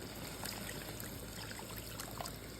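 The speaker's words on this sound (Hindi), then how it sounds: "और अब इसके अंदर हम ऐड कर देंगे पानी" Water pours into a pan of fried spices while a bottle gourd dish cooks, making a steady, moderately loud hiss and trickle that continues without pause.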